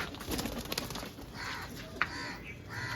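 Soft pigeon cooing, low and murmuring, heard faintly against a steady outdoor background hiss with a brief sharper sound near the end.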